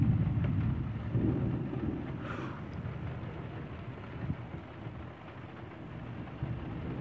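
Deep thunder rumbles through a strong storm at Villers-Bocage, a low, rolling roar that swells early then fades under steady rain and wind noise, with no talk.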